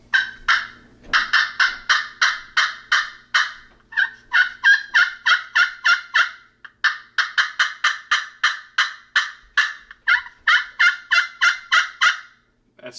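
A turkey friction call worked with a new striker produces a long series of sharp, rhythmic yelps in quick bursts, close and clear with short pauses between runs.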